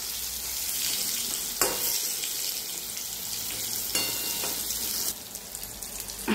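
Eggplant slices fry in a pan with a loud, continuous hissing sizzle close by, punctuated by a few brief clatters as the pieces are turned.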